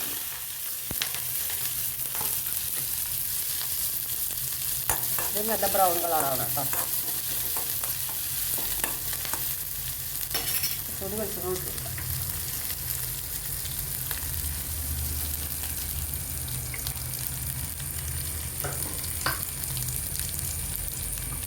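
Oil sizzles and crackles steadily throughout as green chillies fry, with occasional stirring scrapes and a brief spoken remark.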